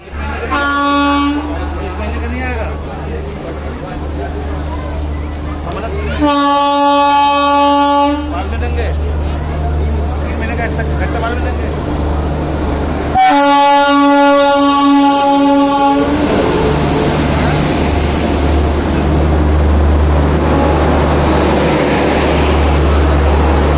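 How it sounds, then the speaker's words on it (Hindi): A train pulls into a railway platform, sounding two long, loud horn blasts over a steady rolling rumble and clatter of wheels, with station noise around it. "हम दोनों लोग रेलवे प्लेटफॉर्म में पहुंच चुके थे, और उसके बाद फिर हम लोगों ने वहाँ थोड़ा सा इंतज़ार किया, और फिर हमारी ट्रेन आ गई।"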